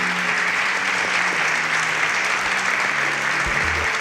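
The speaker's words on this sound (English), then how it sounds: "Round of applause for Farani." Studio audience applause on a Nigerian competition show, a steady, dense clapping that fills the whole stretch at even loudness with no voices over it.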